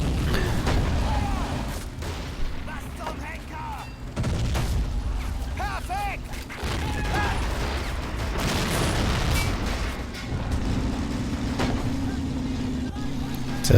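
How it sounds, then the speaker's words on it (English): Mortar fire in the video game Men of War: Assault Squad 2, dull booming impacts scattered over a continuous battlefield rumble with engine drone, no talking. "Mortar pounding away."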